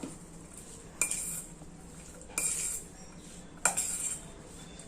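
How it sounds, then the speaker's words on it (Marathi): A spoon mixing salad with black salt in a bowl gives three distinct bursts of clinking and scraping, close and clear, separated by quiet pauses. "थोडा काला नमक आणि छान असं मिक्स करून घ्यायचं"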